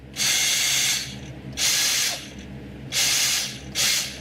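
The steering servo of a 1/16 WPL Hercules Honcho RC rock crawler whirs and ratchets in four bursts, each about a second long with short pauses between, close and alone.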